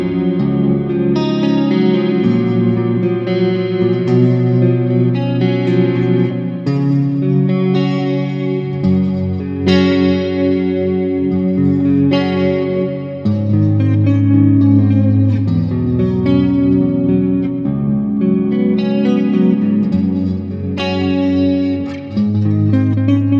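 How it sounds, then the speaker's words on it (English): Peavey Vypyr X guitar amplifier playing modeled amp tones with chorus, reverb and echo effects, a steady, loud stream of layered chords and notes with distorted edges, continuous throughout with no talking. "These are not first class modeled amp sounds, okay?"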